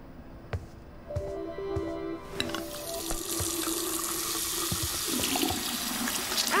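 Tap water starts running for washing at a remote gas station in the video game Life is Strange 2, after a few faint clicks, then becoming a steady, close, full gush into a sink.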